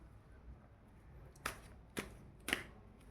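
Tarot cards being shuffled in three short, crisp bursts, each a quick riffle of card edges, in an otherwise quiet room with no talking.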